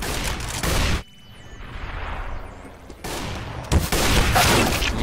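A flashbang grenade detonates in the video game CS:GO with a sharp burst, followed by a ringing, muffled lull before loud gunfire and game noise resume.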